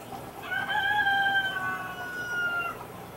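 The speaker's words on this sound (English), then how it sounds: "The rooster says" A rooster crows once at moderate distance, a drawn-out rising and falling call with a softer tail, heard alone over faint background hiss.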